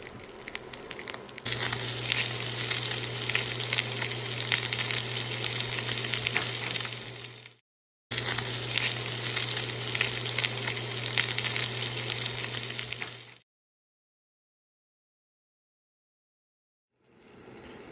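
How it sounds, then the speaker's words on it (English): Salmon sears skin side down in a pan over moderate heat, giving a loud, dense, continuous sizzle close up. The sizzle is briefly cut, resumes, then stops abruptly, leaving silence before a faint return. "place your salmon in the pan, skin side down, lower to moderate heat, and cook for about 4 to 5 minutes on each side"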